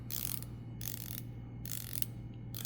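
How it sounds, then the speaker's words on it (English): Bulova watch bezel being rotated, a quiet close-up run of fine ratcheting clicks in short bursts, with no talk. "Fantastic bezel. Sounds so good."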